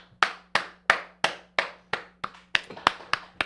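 A single person claps slowly and sharply, about ten distinct claps spaced evenly and close by, offering a thin welcome for a talk-show guest.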